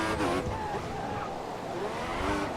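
F1 2014 race car on the Sochi circuit spinning its tyres and losing traction, a loud, continuous engine roar with scrabbling wheelspin that stays steady for the whole stretch.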